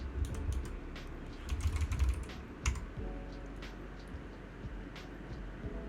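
Typing on a System76 Launch mechanical keyboard with RGB lighting, a dense run of close, crisp key clacks, busiest and loudest in the first three seconds, then softer and more scattered, with no voices.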